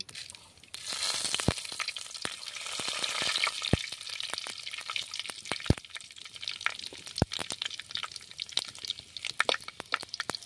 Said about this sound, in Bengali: তেলটা গরম হয়ে গেছে, ওর মধ্যে দিয়ে দিচ্ছি শুকনো লঙ্কা, একটা তেজপাতা, দিয়ে দিচ্ছি 5 ফোড়ন